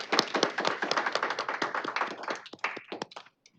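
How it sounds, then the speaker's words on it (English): Applause from attendees at a state board of education meeting, a burst of brisk clapping that holds strong and then thins out into a few scattered final claps as it dies away. "Let's give her a big round of applause."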